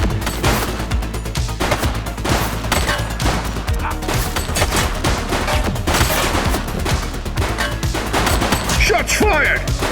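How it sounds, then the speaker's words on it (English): Rapid bursts of automatic gunfire and single shots crack through a police shooter game, The Precinct, loud and dense for the whole stretch, with crashes and booms mixed in and a voice calling out over the shooting. "Shots fired!"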